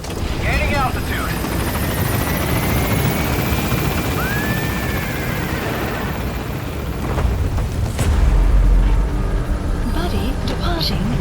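Pequod, a helicopter in Metal Gear Solid 5: The Phantom Pain, climbing away from a landing zone, its loud continuous rotor roar filling the scene with a surge near the end, radio voices speaking over it.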